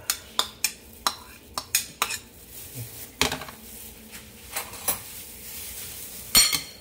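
Dried seaweed salad with carrots, cucumber, lemon and pineapple is stirred and tossed in a bowl, producing a string of crisp clinks and scrapes of a utensil against the dish, close and fairly loud.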